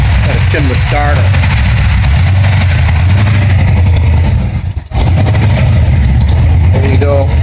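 Freshly rebuilt high-performance 454/462 big-block V8 idling on an engine break-in stand, a loud, close, steady rumbling idle that briefly dips then resumes, with someone talking over it.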